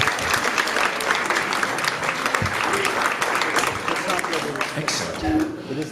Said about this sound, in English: Big round of applause for both of my volunteers